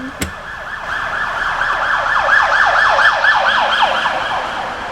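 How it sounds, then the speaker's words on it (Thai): An emergency vehicle siren wails in rapid repeating up-and-down sweeps on a Thai road, loud and close, over a faint hum of traffic after a brief knock at the start. "รถเปิดไฟฉุกเฉินขอทางนะ เปิดไซเรนมารีบแอบซ้ายทันทีนะฮะ"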